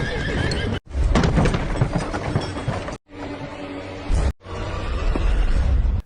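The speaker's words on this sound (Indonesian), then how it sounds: "kuda itu pun mengamuk yang membuat barang bawaan di sana jatuh ke lantai" A horse neighs and rampages through a scene, loud and busy with hoofbeats and clattering objects falling, broken by a few brief pauses.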